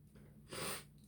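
A single short sniff through the nose, close and fairly soft, rising briefly in the middle of an otherwise quiet indoor moment.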